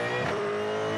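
Supercars race car on a circuit accelerating gently out of a corner, a steady loud engine drone with a slight swell early on, continuous and close throughout.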